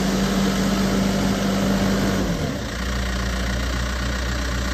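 A 2009 Case 580SM backhoe's diesel engine idles steadily up close with a loud, even rumble, then the pitch shifts and settles lower as it is put into reverse gear.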